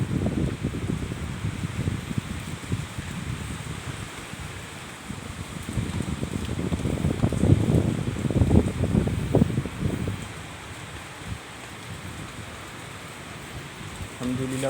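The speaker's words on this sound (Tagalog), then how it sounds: "Malakas ng hangin dito." Strong typhoon wind gusts roar and buffet the microphone in loud, uneven surges, building to a peak midway before easing into a steadier rushing wash.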